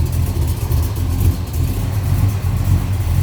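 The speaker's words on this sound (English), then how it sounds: "Listen to that 454 big block sound." A 1969 Chevrolet Chevelle hardtop with a 454 big-block V8 idles close by, a loud, deep, uneven burble with a lumpy rhythm and no talking.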